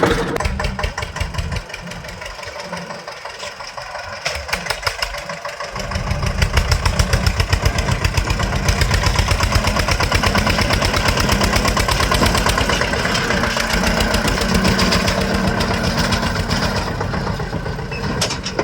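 Tractor engine idling nearby, a steady rapid chugging throb that drops briefly, then settles into an even, loud running rhythm for the rest of the time.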